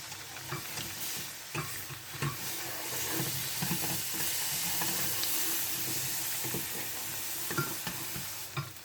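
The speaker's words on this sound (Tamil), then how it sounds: "இப்போ நம்ம தேங்காய் பால் ஊற்றிக்கலாம்" Coconut milk poured onto appam cooking in a hot pan, giving a steady close hiss and sizzle with scattered soft clicks and scrapes, no voices.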